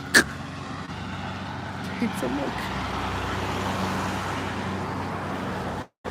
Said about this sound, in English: Just ignore the cars.